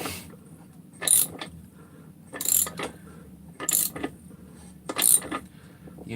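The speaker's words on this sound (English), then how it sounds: "You can use a ratchet here." A ratchet tightening crankcase bolts on a Husqvarna 372 chainsaw, four separate bursts of rapid metallic clicking a little over a second apart, loud and close, with quiet handling noise in between.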